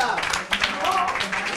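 Studio audience clapping for contestants on a Spanish university quiz show, a brief burst of scattered hand claps swelling and tapering, fairly close, with voices talking over it.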